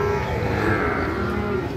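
Holstein Friesian cattle at a busy rural cattle market in Pabna, Bangladesh, where a loud, sustained moo from a nearby animal is heard over a crowded background murmur.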